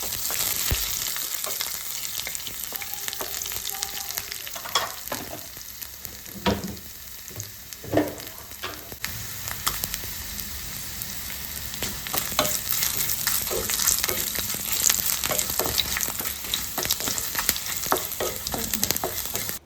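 Oil sizzles and crackles continuously as garlic and chilli fry for a tempering in a pan, with occasional scraping stirs, close and fairly loud throughout.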